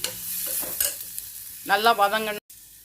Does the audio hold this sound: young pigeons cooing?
no